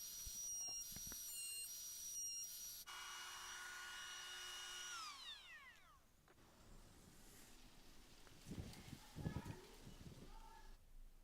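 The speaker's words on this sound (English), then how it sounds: "So now onto the drill press." A drill press bores 6mm holes in 2x3 timber over a sacrificial board, its steady motor whine running throughout at moderate volume, with a spin-down and brief knocks of the wood near the end.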